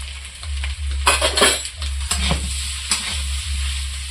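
Potatoes fry in a pan with a constant sizzle. A utensil scrapes and stirs them in repeated strokes, with metallic clatter against the pan.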